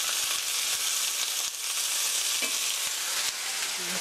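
Red onion, leek, paprika and apple fry loudly in a pot for a pork stew, a dense, continuous close-up sizzle with faint stirring scrapes underneath.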